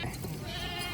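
Goats bleating in a livestock market, a short, faint, wavering bleat heard at a distance against background noise.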